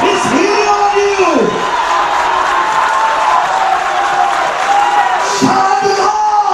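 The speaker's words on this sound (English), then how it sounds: "clap your hands up to God and shout unto Him" Church congregation clapping and shouting praise together, a loud continuous crowd roar with whoops and yells while a voice repeatedly calls out over the noise throughout.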